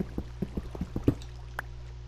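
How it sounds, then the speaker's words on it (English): Underground water in Minecraft, a game cave heard while digging down, plays as a quiet run of soft watery drips and trickles at a steady rhythm with no talk over it. "I hear water."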